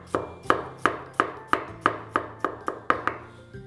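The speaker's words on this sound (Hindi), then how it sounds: "ऐसे रखिए ताकि एक अच्छी ग्रिप बने पत्ता गोभी पर, और तभी ये बारीक बारीक एक समान कटेगी" A knife chops finely through cabbage on a cutting board in ten evenly spaced, crisp strikes, close and clear with no talk.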